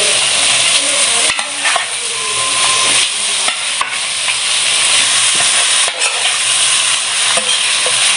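Seasoned, salted and chilli-marinated chicken sizzling loudly in a hot pan while being stirred for a village-style chicken curry, a continuous close frying hiss broken by scraping stir strokes, with no talking.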